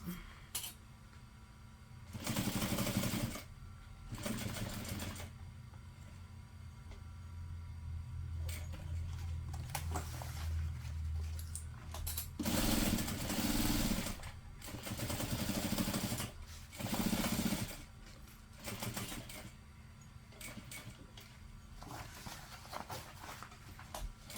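A sewing machine runs in several separate bursts of a few seconds each, back stitching at the start and stop of a bag seam, with quiet pauses between runs and nobody talking.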